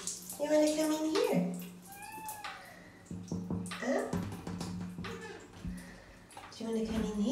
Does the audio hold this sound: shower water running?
yes